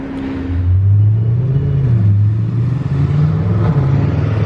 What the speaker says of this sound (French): Couleur et bruit sympa sur cette RS5.